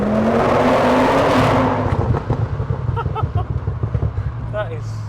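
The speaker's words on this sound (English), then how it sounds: "That exhaust, the note and the pop yeah." A high-horsepower family estate car's loud exhaust roars through hard acceleration, then breaks into crackling pops and burbles as the throttle lifts, with people talking over it.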